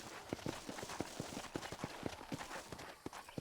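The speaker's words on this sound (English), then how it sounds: "my horse isn't going where I want it to go" A horse in the video game Red Dead Redemption clip-clops in a quick, steady run of hoofbeats, fairly quiet and alone.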